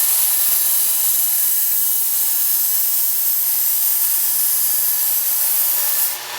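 A knife blade is ground on a Work Sharp Ken Onion sharpener, a continuous close, loud abrasive belt rasp that holds steady for several seconds before easing off at the end.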